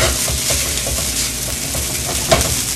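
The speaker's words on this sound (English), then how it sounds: "I hear that popping noise like fried rice." Trader Joe's spicy Thai shrimp fried rice sizzling in plenty of oil in a pan on high heat, a steady close crackle with scattered pops and faint stirring scrapes throughout.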